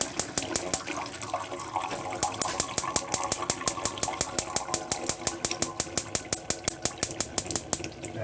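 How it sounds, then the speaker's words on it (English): Gas hob rings on a 2015 Lunar Lexon 470 caravan being lit one after another, a steady train of sharp igniter clicks ticking close by in a fast, even rhythm with a faint gas hiss beneath. "But I'm just going to ignite all the rest of the rings up."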